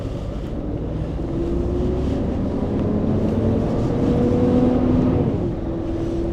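Scania truck pulling away on a driveway, a deep diesel engine rumble that builds slightly as it moves off, steady and close with some wind buffeting over the microphone.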